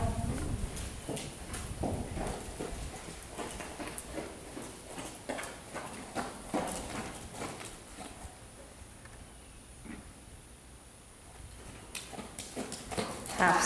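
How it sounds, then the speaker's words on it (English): A horse trotting into a dressage arena, hooves clip-clopping in a steady rhythmic beat close by, continuing for several seconds with a brief lull before picking up again. "when you're ready, you're going to enter at a trot"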